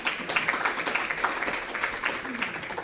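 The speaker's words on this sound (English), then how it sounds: "a round of applause" Audience applause at a regional agricultural policy workshop after presentations, a steady, dense patter of many hands clapping at moderate loudness throughout, with faint voices mixed in.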